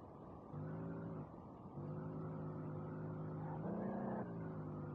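Drift car engine in the racing game Street Legal Racing Redline, a faint steady droning tone that cuts out briefly, returns, and then rises in pitch as the revs climb, with no talking.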